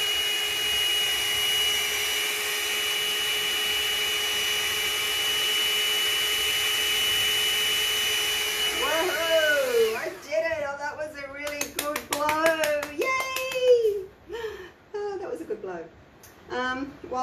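A hair dryer on its cool setting blows acrylic pour paint with a steady close-up whooshing hum that cuts out partway through, after which someone talks.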